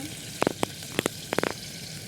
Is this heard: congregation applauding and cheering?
no